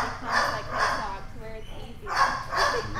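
Dog barking in a kennel and daycare setting: two pairs of sharp barks at the start and end, fairly close and loud, with a short whimper-like sound between them.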